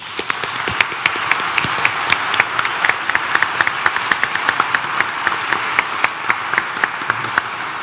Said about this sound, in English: You got to give David another round of applause